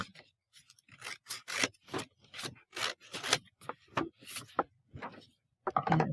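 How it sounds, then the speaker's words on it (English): Scissors cut out a paper vase-shaped template all the way around, a close series of irregular rasping snips and scrapes with short pauses between strokes. "And then you're just going to cut it out all the way around."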